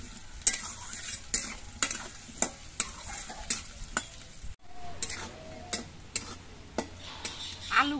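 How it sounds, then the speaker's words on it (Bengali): Potatoes being fried with a little salt in a pan make a soft, steady sizzle, punctuated by regular clinks and scrapes of a spatula stirring, fairly quiet and close. "আলুগুলো ভাজার সময় এর মধ্যে অল্প করে একটু নুন দিচ্ছি।"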